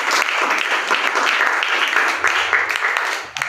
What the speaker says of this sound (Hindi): तो देखो जोरदार ताली बजाओ